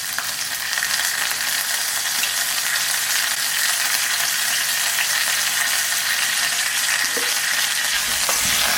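Tomatoes hit a pan of browned onion and garlic for tortilla soup, producing a loud, dense, steady sizzle that fills the whole stretch, with a brief utensil scrape near the end and no talking.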